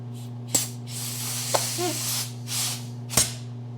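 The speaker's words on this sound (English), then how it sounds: "easiest way to remove these grips: air compressor with a little rubber end." An air compressor with a rubber-tipped nozzle blows short hissing bursts of air under an ATV handlebar grip on a Polaris Sportsman 570, several loud, close sprays with pauses between them over a constant low hum.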